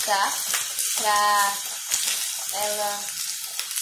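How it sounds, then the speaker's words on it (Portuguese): Sausage sautéing in a pan with very little olive oil, a steady close sizzle and crackle running throughout, while someone speaks briefly over it. "Observem que a linguiça está sendo refogada com pouquíssimo azeite"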